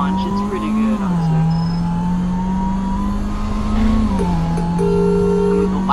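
Launch and hard acceleration of a starter car in Roblox Greenville: a steady, loud engine drone rises in pitch, drops briefly at a gear change, then climbs again, continuous and close throughout.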